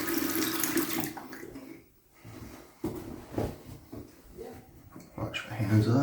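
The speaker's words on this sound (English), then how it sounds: "Wash my hands off" Tap water running into a sink for hand washing during a shave, a close rushing stream that briefly drops away before resuming, with a voice talking over it.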